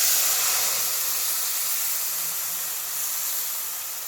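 Nigella seeds and dry chillies sizzling in hot oil, a loud, continuous, close hiss that holds steady and eases slightly toward the end, with no one talking.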